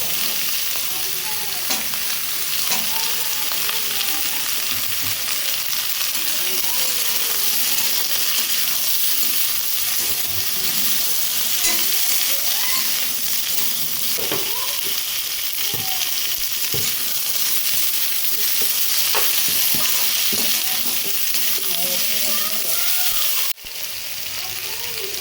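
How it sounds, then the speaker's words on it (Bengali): Capsicum and eggplant with potato frying in a pan, a steady loud sizzle throughout with repeated scraping and clacking of a spatula as the vegetables are stirred, close up. "দেখুন সবজিগুলো খুব ভালোভাবে ভাজা হয়ে গেছে"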